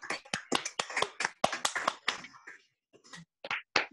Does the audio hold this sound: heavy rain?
no